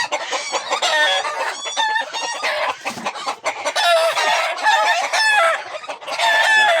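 Chickens cluck and squawk loudly and nonstop at close range, with roosters crowing repeatedly through the noisy flock.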